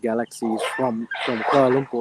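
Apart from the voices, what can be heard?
dogs barking outside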